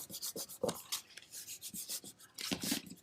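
Soft scratchy rubbing strokes of a finger pressing a glued paper tab flat on a handmade Christmas gift box, quiet and close, in short uneven bursts.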